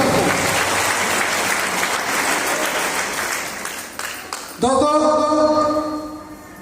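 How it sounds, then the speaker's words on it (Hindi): Loud applause from an audience at a Safe Shop business meeting in Jharkhand fills the opening seconds, then breaks off as music with sustained tones starts up. "एक बार अपने लिए जोरदार तालियां दोस्तों।"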